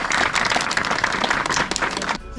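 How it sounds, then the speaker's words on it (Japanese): Audience applause at a hard-lure-only bass fishing tournament with about sixty anglers, steady dense clapping throughout, fairly near and loud, ending abruptly. "改めて皆さん拍手でお願いします"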